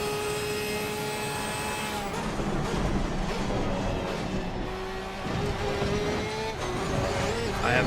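A race car engine drones through a lap in a racing sim, a loud, continuous whine that rises and falls with gear changes and shifts in revs, close and alone without talk.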